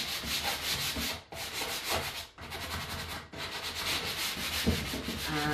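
Sandpaper rubs steadily over painted wooden furniture, stripping paint to distress it. Close, continuous scratchy friction with two brief pauses and some firmer strokes, with no voices.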